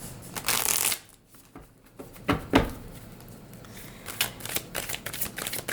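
Close riffle shuffles of a Morgan Greer tarot deck, a loud burst of card flutter at the start followed by softer bursts of crisp card snaps and taps, with no voices.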